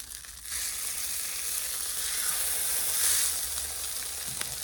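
A birria taco sizzles and fries steadily in hot oil as it is flipped, a continuous bright crackling hiss that swells briefly mid-clip, close and fairly loud with no talking.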